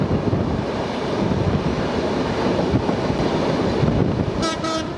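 Passenger train on the Padma rail link running steadily and loudly close by, a continuous rumble of wheels on track with wind buffeting, and a brief high tone near the end.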